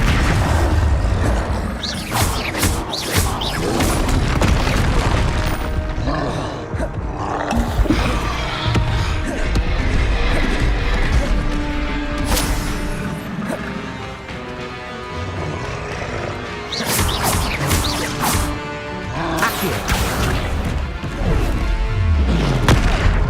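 Blasts from the Confringo explosion spell in Hogwarts Legacy boom and crash repeatedly, loud and near, amid a dense roaring battle mix with no speech.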